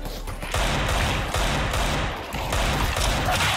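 Rapid automatic gunfire from Counter-Strike 2, loud bursts of repeated shots in two long volleys with a brief pause between, no talking.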